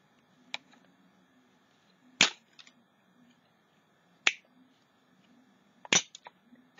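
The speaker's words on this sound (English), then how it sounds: "You could hear it just binging off my paint cup." Cut pieces of aluminum soda can ping sharply off a paint cup, four bright metallic clinks spaced a couple of seconds apart against a quiet room.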